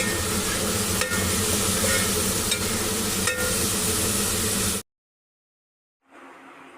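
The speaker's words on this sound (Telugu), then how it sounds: "ఆనియన్స్ అన్నీ ఫ్రై చేసుకోవాలి" Onions frying in hot oil for a sea fish curry make a dense, loud, continuous sizzle with a few sharp ladle knocks, then cut to silence before a fainter hiss resumes.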